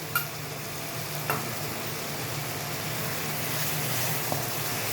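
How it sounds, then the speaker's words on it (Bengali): Sour yogurt is stirred into spice masala in a pan, giving a soft, steady sizzle with a few faint clicks of the utensil against the pan. "এবার এর মধ্যে দিয়ে দিচ্ছি একটু টক দই।"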